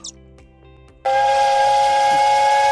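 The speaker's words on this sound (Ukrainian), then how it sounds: "потяг, водоспад, бог." After a quiet second, a loud sustained train whistle blasts and holds steady, with a hissing edge.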